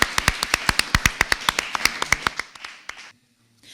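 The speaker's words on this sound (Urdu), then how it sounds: "دونوں ٹیمز کے لیے تالیاں." Applause for two competing teams at a children's quiz show, a run of sharp, evenly spaced claps from a few people nearby that slows and fades out after about three seconds.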